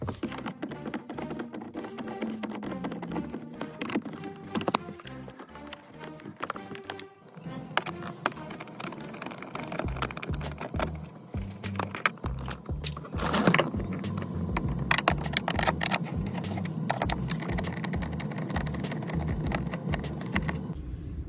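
A 7mm socket ratchet works bolts loose on a Ford Expedition door panel, with rapid, steady clicking that runs nearly throughout, close and fairly quiet, alongside some clunks and handling noise.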